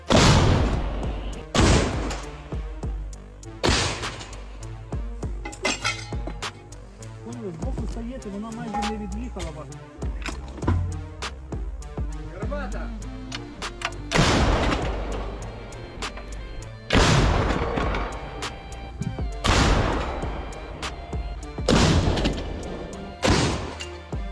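Heavy cannon blasts boom repeatedly, loud and close, spaced a few seconds apart over continuous rumbling battle noise.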